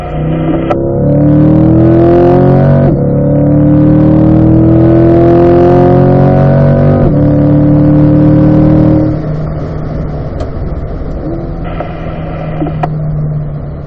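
A car engine revs hard up to 6,000 rpm in fourth gear on a track straight, loud and close, pitch climbing steadily before a gear change and a lower, steadier drone.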